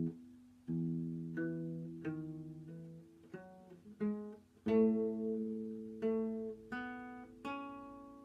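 A guitar plays the Grade 2 piece Moderato with bass notes, a slow sequence of clear plucked notes and low bass tones, each ringing and decaying, close and quiet with no talking.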